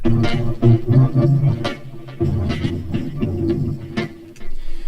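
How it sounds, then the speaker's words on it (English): A pulsing, synthetic bass loop run through iZotope Vocal Synth 2, with a robotic, vocoded vocal tone, rhythmic and loud, with brief dropouts between phrases. "I just took a clip of the bass loop and put Vocal Synth 2 from Izotope over it."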